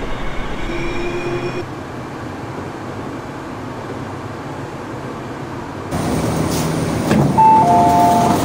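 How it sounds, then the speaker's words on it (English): An ERL R-train in the OpenBVE simulator arrives at Kwu Tun platform. A steady low rumble of rolling stock builds into louder wheel and brake noise, with tonal squeals and chimes as the train pulls in. "往尖东的列车现在到站， 请乘客不要靠近月台入门。"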